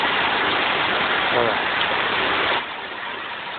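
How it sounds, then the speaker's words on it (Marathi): Heavy rain pours outside a village house in a steady, dense, loud hiss. Someone speaks briefly over it, and the roar drops somewhat in level near the end. "किती जोरात पाऊस पडतोय"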